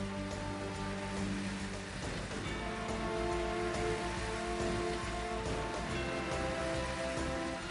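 Steady, dense rain falling and pattering on surfaces, a continuous hiss throughout at moderate volume, with no voices.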